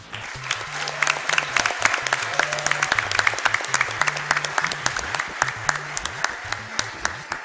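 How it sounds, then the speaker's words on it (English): Audience applause at a speedrun charity event, lively clapping with sharp individual claps standing out over the crowd, while a low electronic game melody plays steadily underneath. "Can we get a round of applause for the tech guys helping to put on the event?"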